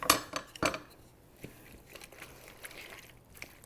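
Penne pasta being stirred into an Italian sausage bake, with a couple of sharp clanks of utensil on pan at first, then softer scraping and shuffling of the mixture.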